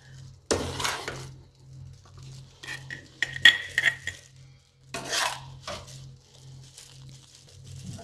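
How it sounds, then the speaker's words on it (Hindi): A metal spoon pressing ginger pickle into a glass jar, producing sharp close clinks and scraping bursts in separate clusters over a steady low hum. "देखना इसको अच्छे से दबा दबा कर भरना है चम्मच से"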